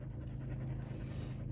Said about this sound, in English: What's the dog doing?